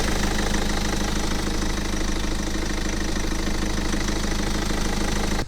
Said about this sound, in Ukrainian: давайте послухаємо, як працює двигун. А друзі, двигун працює досить рівненько.